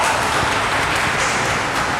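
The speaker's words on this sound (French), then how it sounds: "Applaudissez pour vous-même" Steady applause from a group of people honoring the cooks at a gathering, a dense continuous wash of clapping that fills the whole stretch at even loudness with no voices.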